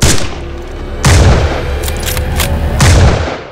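Gunfire in a sniper action film: three loud, booming shots spaced about a second or two apart, each followed by a rumbling, echoing tail, with no speech.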